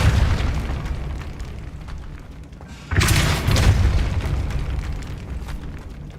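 The Depulso force spell cast in Hogwarts Legacy, a sudden loud booming burst partway through that settles into a rumbling wash over ongoing game ambience.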